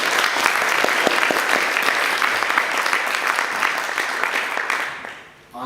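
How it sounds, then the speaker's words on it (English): Sustained applause from an audience at a Green Party event in Leeds, dense steady clapping for about five seconds that tapers off near the end. "so I think he deserves a round of applause"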